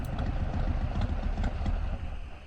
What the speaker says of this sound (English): The truck engine sputters and dies, and Conway guides it carefully off the road